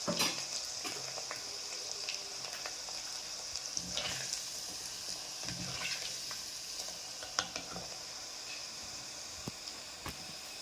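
Peeled garlic fries in a pan of oil, a continuous soft sizzle dotted with occasional spatula scrapes and small crackling pops, heard close with no talking.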